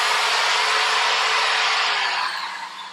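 A power drill whirs steadily at high speed, a dense bright whine that holds, then eases off slightly at the end.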